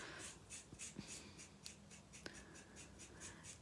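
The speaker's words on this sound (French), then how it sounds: "Je prends ma pointe épaisse et je viens colorier, coloriser, gratouiller, ancrer," A thick-tip marker scratches across scrap paper in quick rhythmic strokes, soft and close, with no talking.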